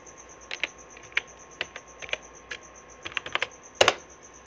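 Typing on a computer keyboard while entering text in Microsoft Word, with irregular keystroke clicks spaced through the clip and a sharp cluster of louder hits near the end, close and fairly quiet.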